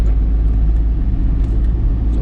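A Suzuki Spresso driving along a road in Laguna, its engine and tire rumble steady and loud close by, a continuous low drone with no talk.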